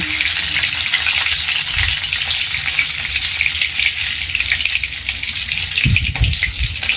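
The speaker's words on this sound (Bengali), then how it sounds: "হচ্ছে মাগুর মাছ ভাজা হচ্ছে" Live magur catfish sizzling in hot oil on a wood-burning stove, a steady dense crackle heard up close, with a couple of heavier thumps or stirs near the end and no talk.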